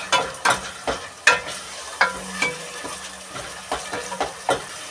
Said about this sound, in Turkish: Evet soğanları güzelce kavuruyoruz.